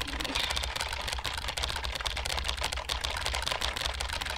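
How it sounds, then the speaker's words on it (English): Rapid, irregular computer keyboard clatter, random keys tapped continuously in quick bursts, fairly quiet and close. "I'm just randomly typing random buttons at the same time."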